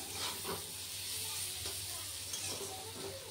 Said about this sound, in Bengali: আর এখানে দেখো পেঁয়াজটা ভাজা বসিয়েছি